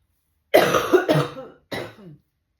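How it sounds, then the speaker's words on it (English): A dry cough from a tired adult, heard close and alone: a harsh burst of two quick hacks, a short pause, then one more cough. "I'm tired of this dry cough."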